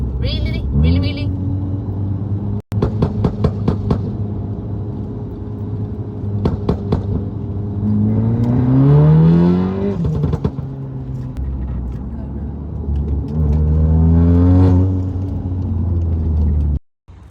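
A Volkswagen Golf R MK7.5 engine rumbles, then revs up in two rising surges, loud and close from inside the car. People talk over it.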